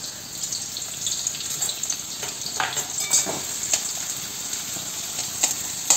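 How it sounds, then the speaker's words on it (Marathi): Onion frying in hot oil, a steady close sizzle with faint stirring scrapes, no voices. "तेल गरम झालंय, त्याच्यात कांदा परतून घ्यायचा"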